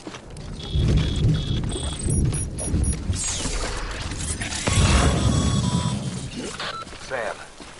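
Timefall rain and rolling thunder in the video game Death Stranding, a heavy wash of rain with deep rumbles swelling and fading, plus some mechanical clatter layered in.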